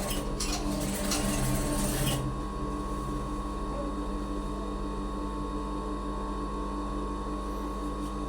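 A sewing machine stitches a shirt with lining, opening with about two seconds of rapid mechanical stitching before settling into a steady, low motor hum.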